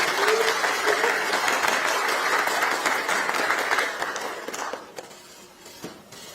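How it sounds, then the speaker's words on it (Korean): Lawmakers at a party caucus meeting applaud to welcome their presidential candidate, a sustained burst of crowd clapping that tapers off near the end. "환영과 격려의 박수 부탁드립니다."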